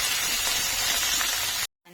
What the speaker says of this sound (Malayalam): ഇനി ഉള്ളി, തക്കാളി, പച്ചമുളക് ഇത് നല്ലോണം വഴറ്റിയെടുക്കട്ടെ.